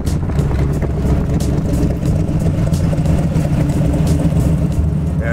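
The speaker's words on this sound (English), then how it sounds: "This car really sounds good." A 700 hp LS-powered 1962 Chevy Bel Air Bubble Top restomod runs steadily at close range, its deep, even engine rumble holding at a constant loud level throughout with no talking.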